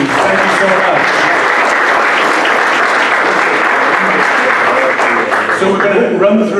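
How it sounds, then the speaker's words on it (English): An audience at a tech hackathon pitch event in Orlando gives a sustained round of loud, dense clapping that fills the room for several seconds and begins to thin out near the end. "could everyone give a round of applause to everybody who is here, please?"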